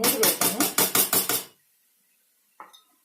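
Metal lid set on a pan of frying cluster beans, a fast run of about eight loud rattling clanks, then silence and one softer clink.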